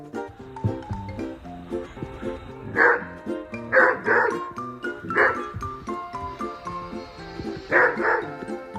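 A husky barks and yips at a moose in a series of loud close barks, some in quick pairs, with whimpering between them over a faint background voice.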